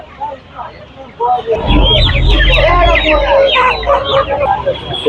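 Several chickens cluck and squawk busily up close, with people talking in the background of a bustling weekly market in Ranipet, India.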